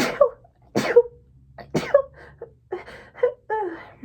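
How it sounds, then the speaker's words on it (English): A sudden sneeze bursts out close by, followed by a second one, then a few gasps and a short exclamation. "he's going to make me sneeze"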